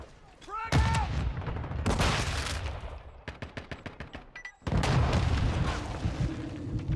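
A grenade going off in Call of Duty Modern Warfare 2, heard as heavy booming blasts and rattling bursts of gunfire in the middle of loud battle noise, with a brief voice near the start.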